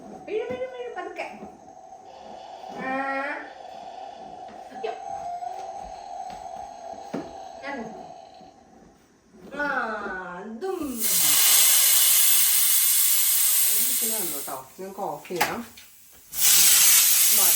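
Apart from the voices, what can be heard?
pressure cooker whistle lifted, steam hissing out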